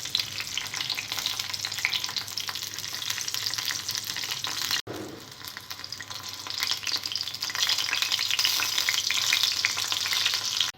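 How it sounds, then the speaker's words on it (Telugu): Green chillies fry in hot oil in a pan, giving a loud, dense, continuous crackling sizzle with a brief break before it surges back, close-up and with no voices. "ఆయిల్ వేడిన తర్వాత పచ్చిమిరపకాయలు ఫ్రై చేసుకోవాలి."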